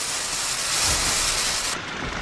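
A steam engine driving a 1947 Aberdeen-built Tullis threshing machine with a 4'6" mill gives off a loud, continuous hiss of steam with a low mechanical rumble underneath. The brightest part of the hiss cuts off abruptly near the end.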